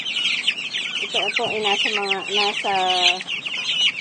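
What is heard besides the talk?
chickens clucking, 45-day-old chicks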